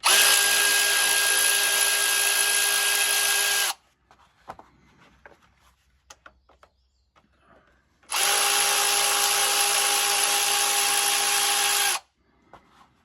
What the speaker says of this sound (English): To make this job go a little bit quicker, I'm using some power tools.